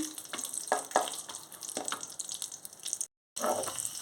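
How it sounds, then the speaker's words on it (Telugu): Cashews, almonds and raisins fry in melted ghee in a pan for payasam, a soft crackling sizzle with light stirring taps, close and quiet, broken by a brief gap. "ఇందులోని డ్రై ఫ్రూట్స్ జీడిపప్పు, బాదాము, కిస్మిస్ వేసేసుకుంటున్నాను. మాడకుండా జాగ్రత్తగా వేయించుకోవాలి."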